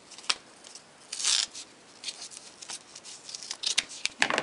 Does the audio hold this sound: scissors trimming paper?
yes